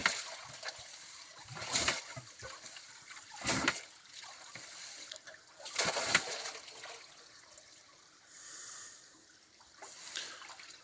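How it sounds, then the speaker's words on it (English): Water poured and splashed while washing hard-packed material down into a gold pan during prospecting, arriving as several loud bursts of splashing around two, four and six seconds, with quieter trickling and rustling between them. "he's pulling water up and then he's washing the sides down into a pan"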